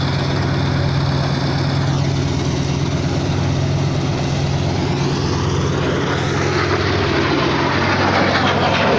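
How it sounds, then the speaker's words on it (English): Aircraft flying overhead at an air show in Edinburgh, South Australia, a loud continuous engine drone with a shifting, sweeping pitch as the plane passes, no talk. "There's really not much point looking at the aircraft as they're flying around."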